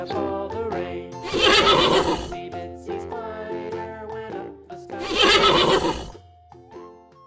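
A farm animal toy horse plays two loud, shrill whinnies separated by a short jingly tune, close and clear with no speech.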